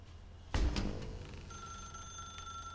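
A telephone rings in The Stanley Parable: Ultra Deluxe, starting abruptly with a loud metallic bell burst, then settling into a sustained, bright electronic trill that holds steady and close, with no talking.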